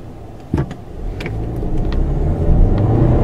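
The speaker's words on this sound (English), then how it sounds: "This engine has plenty of acceleration once the turbo spools up." 2014 VW Passat SEL with a turbo engine accelerating, a low rumbling drone that builds steadily in loudness over a few seconds, heard from inside the car with a brief thump near the start.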